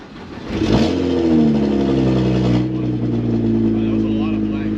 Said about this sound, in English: Well, I did do a cold start.